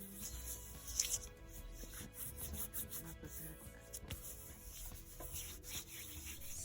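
Hands rubbing cuticle product into freshly applied press-on nails, a soft continuous skin-on-skin friction with light rasping texture, close and quiet throughout with no talking.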